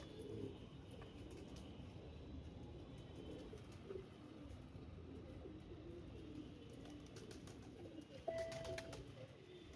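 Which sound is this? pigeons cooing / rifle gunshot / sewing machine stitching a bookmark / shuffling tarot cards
pigeons cooing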